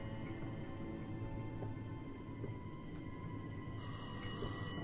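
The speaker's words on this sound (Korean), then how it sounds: "어디 전화 소리 나?" A telephone in the horror video game Rise of Insanity starts ringing near the end, a bright electronic tone over a low, dim ambient hum, with no talking.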